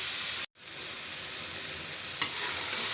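Whole masoor lentil curry sizzles and fries in ghee in a pan, a loud continuous crackle broken by a brief stir near the start and a small clink later, with no voices.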